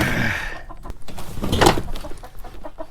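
Chickens cluck and murmur softly inside a chicken coop, a few short clucks close by over a low hum.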